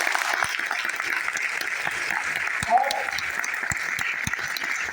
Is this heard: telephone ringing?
no